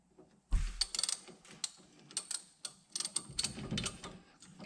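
Ratchet wrench loosening factory-Loctited brake caliper pad retaining bolts on the rear of an ATV, with a series of quick mechanical clicks and clacks in uneven bursts, close up and fairly quiet, no talking.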